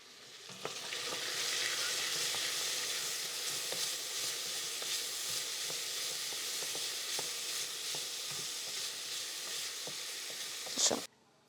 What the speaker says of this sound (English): Now, these carrots are gonna saute